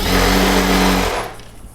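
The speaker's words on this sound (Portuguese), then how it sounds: "Aí vamos continuar costurando mais um lado." A sewing machine runs at speed, stitching a straight seam along the side of knit fabric scraps for a baby comforter, humming loud and close for about a second before stopping.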